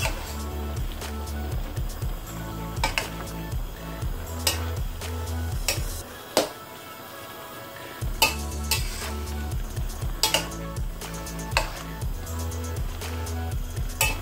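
Spatula stirring and scraping wilted palak spinach in a pan for a keerai kadayal, with repeated clicking scrapes and knocks against the metal over steady background music.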